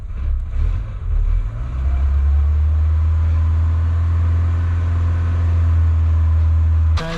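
A Peugeot 205 Turbo engine, freshly restarted with good oil pressure, runs with a loud steady low drone that swells slightly as it is revved, with the gearbox adding noise throughout and a brief click near the end.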